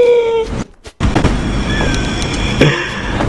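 A grenade going off in a CS:GO zombie escape mod map on a boat level: a brief dropout, then a sudden loud blast that rolls into a sustained rumble of game noise, with a second sharp pop near the end.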